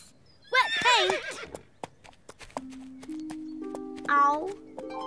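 Cartoon horse in a children's animation gives a loud, wavering whinny, then a second neigh later; hoof-like clops and a few tonal musical notes sit between them.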